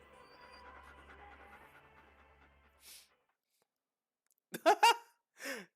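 A dog pants and snuffles in a Silent Hill 2 ending scene, faint panting at first, then a few sharp, louder yelps or whimpers close by after a pause.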